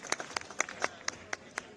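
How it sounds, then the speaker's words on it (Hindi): A sparse handful of sharp hand claps at a political rally, spaced irregularly and fairly faint, answering a call for loud applause for Prime Minister Modi at an Ujjwala gas event. "तो जोरदार तालियां हमारे मोदी जी के लिए।"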